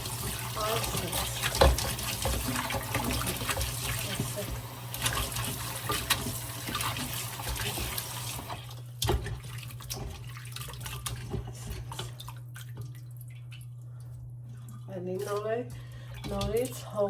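Tap water runs steadily while something is washed, a loud continuous rush for several seconds that then eases to a quieter flow under a person talking.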